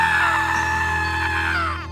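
Cartoon characters in a horror episode let out one loud, sustained scream, held at a high pitch for nearly two seconds before sliding down and cutting off.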